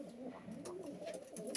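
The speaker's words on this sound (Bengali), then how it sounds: "দুটো ম্যাটরাজি পায়রা ছেড়েছি" Madrasi pigeons coo softly and continuously, a low, rolling throaty murmur close by and faint, with no talk.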